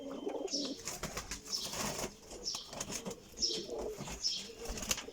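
Flock of 26 pigeons in a loft, with repeated wing flapping and soft cooing, fairly close, in bursts across the clip.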